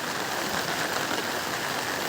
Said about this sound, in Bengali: এই যা বৃষ্টি শুরু হয়ে গেছে, তার কি হবে?